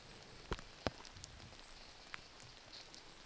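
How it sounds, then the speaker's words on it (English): Heavy rain falls steadily during a disc golf final round, a soft continuous patter with a few sharp drop taps hitting close by, and no voices. "anytime on coverage you can see the raindrops on camera, that means it's pretty heavy rain"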